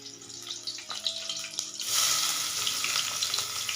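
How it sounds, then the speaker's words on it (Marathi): Chopped onion, green chillies and cumin sauté in hot oil, starting as a soft crackle with a few utensil taps and swelling into a steady, louder sizzle close by. No one speaks. "आता हे सगळं मिश्रण परतून घेऊया चांगलं."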